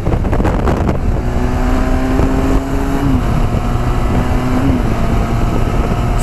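A Benelli TRK 502 motorcycle revs up through its gears on the open road, its engine note climbing steadily with brief dips at each shift. The engine drone is loud and continuous, with no talk.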